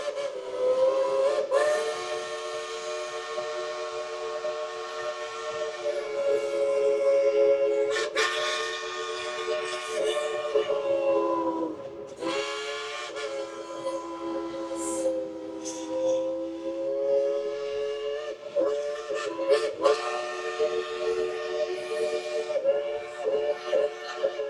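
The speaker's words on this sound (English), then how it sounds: "let's all tell that engineer up there to blow the whistle" A loud steam locomotive whistle sounds in long sustained blasts at Dollywood, breaking off and restarting several times, with hissing steam and faint crowd noise behind it.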